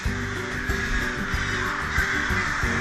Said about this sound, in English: the birds are so loud, especially in the morning